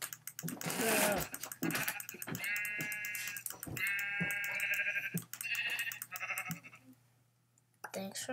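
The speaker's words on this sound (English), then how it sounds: "I'm gonna go get the sheep." Several Minecraft sheep bleat in short, buzzy, repeated calls at close range, with keyboard and mouse clicks and a player talking around them before a brief quiet.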